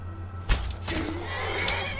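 A horse neighs in the video game Skyrim, one sharp whinny near the start, then softer whinnying over a steady low game hum, with no talk.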